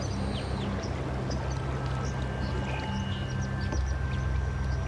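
A river flows in an outdoor scene from a Macedonian drama, a steady broadband rush of water that stays constant throughout, with faint birdlike chirps above and no talking.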